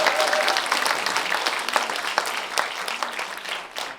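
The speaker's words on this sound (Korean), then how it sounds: "큰 박수 한번 부탁드리겠습니다." Applause from an audience at a political gathering, greeting a newly elected National Assembly member, a steady broadband clatter of many hands clapping that fills the whole span with a few sharper individual claps.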